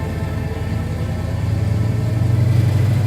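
A 1968 Dodge Charger R/T V8 rumbles steadily at close range with no talk, its deep throb swelling louder toward the end as if revving up.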